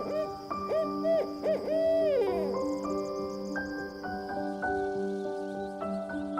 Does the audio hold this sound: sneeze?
no